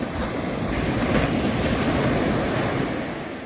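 Waves wash continuously onto a calm, clean-water beach lined with coconut palms, a soft steady surf roar mixed with light wind noise on the microphone, no voices.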